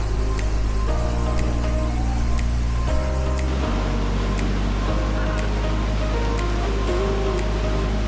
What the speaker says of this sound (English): stand on this rock above a waterfall that falls down God knows where